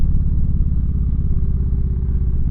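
A motorcycle fitted with a Power Commander runs steadily close by, a loud, continuous low engine rumble that holds without pause and with no talk over it.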